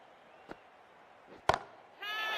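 Bat striking ball for a six in the Cricket 24 video game during a women's T20 World Cup match at Lord's, a crisp single thwack preceded by a softer tap, then a swelling crowd roar.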